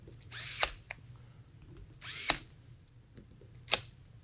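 Three short, sharp bursts from a power drill driving fasteners while an FX Impact air rifle is assembled, each a whirring buzz that peaks at the end, close and loud over a low steady hum, with no talking.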